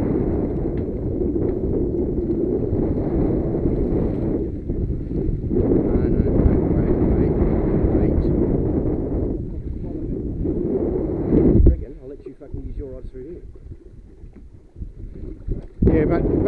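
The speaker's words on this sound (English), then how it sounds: "The wind is more." Wind blows hard around a fishing boat at sea off the Gold Coast, a loud continuous rush of buffeting gusts against the microphone that suddenly drops off near the end before returning.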